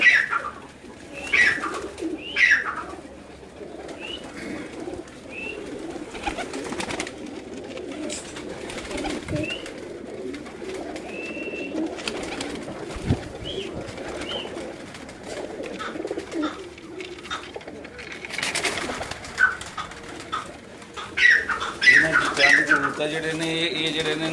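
Pigeons coo on a rooftop in Gujrat, giving repeated soft low calls close by, with chirps mixed in. Quiet voices are heard now and then.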